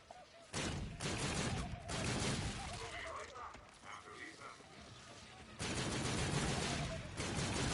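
Shotgun blasts ring out in the shooter game Call of Duty: Infinite Warfare Zombies, several loud, rapid bursts with a steady background din and a voice talking over them.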